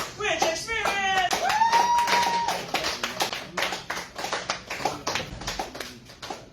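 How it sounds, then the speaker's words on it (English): Poetry-night audience claps for the first performer at a Chicago cabaret, scattered hand claps in a steady patter following a voice, fairly close and moderately loud. "I want to give double plus applause for our first performer tonight."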